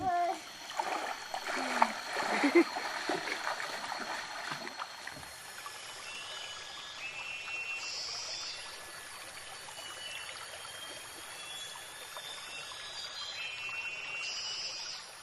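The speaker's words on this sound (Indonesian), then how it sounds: "Lihat saja Bekajang dan Bejeling berayun di akar pohon dan menjeburkan diri ke sungai yang jernih dan dingin airnya" Children swing on tree roots and drop into a clear, cold forest river, giving a few splashes and water movement in the first seconds before a steady stream trickle with birdsong continues.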